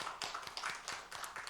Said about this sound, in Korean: 우리 박수로 축복합시다.